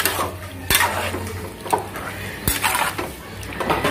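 Onions and green chillies get stirred in a pot with a spoon, sharp metallic scrapes and knocks against the vessel at irregular intervals over a low sizzle, close up with no talking.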